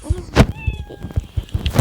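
A cat meows loudly and close, a short rising-and-falling cry amid scattered thumps and background game sounds.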